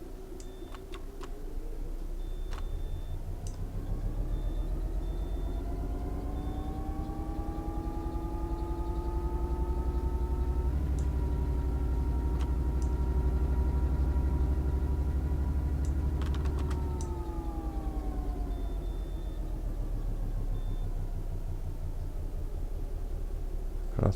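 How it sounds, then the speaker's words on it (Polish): A locomotive engine runs in Train Sim World 4, a steady low diesel drone that rises in pitch and holds before settling back, with faint clicks and beeps above it and no voices. "Praca silnika"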